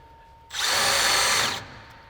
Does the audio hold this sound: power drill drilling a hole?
yes